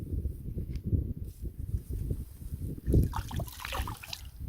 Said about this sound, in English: To the sound of lapping water, great spot for a coffee.